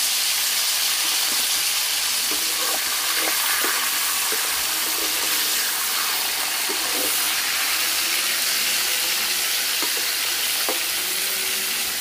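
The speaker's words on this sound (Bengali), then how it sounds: "তেল গরম হয়ে গেছে, এখন ফুলকপি ভাজা নেব।" Purple cauliflower frying in hot oil, a loud continuous sizzle and bubbling with faint clinks of stirring, no voices.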